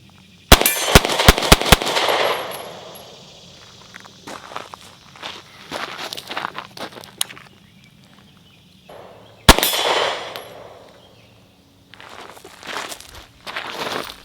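Sharp, loud pistol reports from a Sig P365XL handgun: a rapid string of about four shots, then a single later shot, each ringing out with echo on an outdoor range, separated by quieter handling noise.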